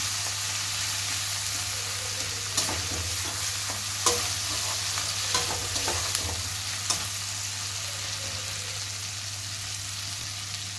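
Ginger and tomato fry in a pan for a vegetarian Bengali raw banana and potato curry, giving a steady, even sizzle throughout, with a few sharp clinks from stirring.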